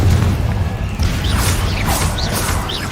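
Confringo spell blast in Hogwarts Legacy, a loud booming impact with rumbling low end followed by crackling, whooshing magical flourishes and rising swirls.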